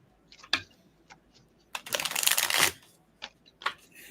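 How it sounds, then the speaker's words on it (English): Small tarot cards, about the size of playing cards, being shuffled in short rustling bursts, with a longer riffle in the middle and a few sharp snaps of cards around it, recorded close and with no talking. "So I'm having a hard time shuffling them because I'm so used to the big guys."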